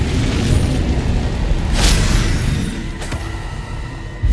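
A Bombarda spell explosion in Hogwarts Legacy makes a sustained heavy rumble, with a bright burst about midway and a second, smaller crack shortly after, all loud and close.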